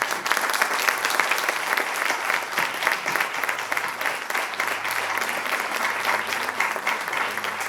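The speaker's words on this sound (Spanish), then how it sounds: "Este aplauso va para ellas" An audience claps steadily and loudly throughout at a book presentation in Marchena, the dense applause holding an even level for several seconds with no break.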